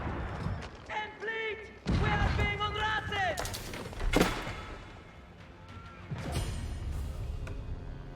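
Cannons fire in an Age of Empires IV battle, giving booming thuds and impacts amid game combat sounds, layered under steady commentary.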